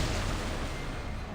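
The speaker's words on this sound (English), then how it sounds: "that explosion came from over by the lifeboats" Explosion aboard a ship under attack in the video game Reverse: 1999, a sustained broadband rumbling boom with heavy low end that holds loud for over a second and fades only slightly, with no talk over it.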